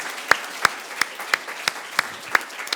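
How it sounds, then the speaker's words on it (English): Schoolchildren at a junior school clap in a slow, sparse rhythm, with about a dozen distinct claps, fairly close and moderately loud. "Let's have a big round of applause for that."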